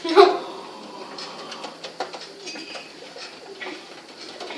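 A pigeon coos softly nearby, with light pecking taps and small clicks scattered between the calls and a brief louder burst at the start.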